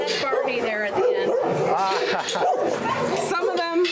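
Show dogs bark and whimper close up in a steady stream of yips and whines, while people talk over them.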